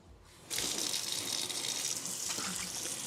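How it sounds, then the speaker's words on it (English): Water runs steadily from a sink tap as a hand is rinsed beneath it in a kitchen during bread dough making, a continuous close hiss that starts abruptly and fills the clip with slight splashing changes. "I'm gonna go ahead and rinse my hand."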